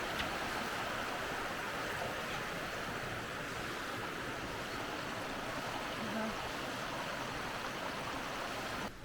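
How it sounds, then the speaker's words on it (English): A Lake District stream near Keswick and Derwent Water runs with a continuous close rush of water, steady and unbroken, with no other sound breaking through. "Nothing quite as calming as the sound of running water"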